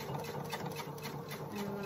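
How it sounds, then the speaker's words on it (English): A sewing machine stitches through batting and two layers of fabric, a rapid steady mechanical patter that runs continuously, close but fairly quiet, with no voices. "I am sewing through batting and two layers of fabric and some extra fabric"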